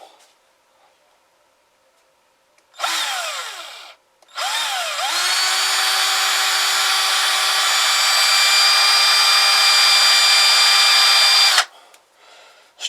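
A power drill whirs in two short bursts, then runs steadily for about seven seconds as it drives a screw into a poly dowel, close and loud, with silence before and after.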